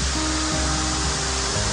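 A waterfall in Iceland roars as a loud, steady, close wash of falling water that fills the whole moment without any voices.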